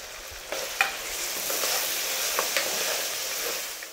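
Tomatoes seasoned with turmeric, chili powder and salt cook down in a pan with a steady soft sizzle, broken by a few light clinks and scrapes of stirring.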